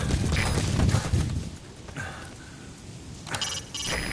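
Horse hooves clip-clopping in Metal Gear Solid 4, a steady galloping patter heard fairly close amid game ambience, with a brief chiming tone near the end.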